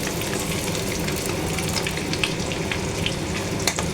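Eggs frying in oil give a steady, close hiss and crackle, with small pops scattered through the continuous sizzle and no voices.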